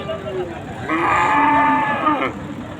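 A bull at a rural cattle market lets out one loud, drawn-out moo close by, over a low murmur of market background noise.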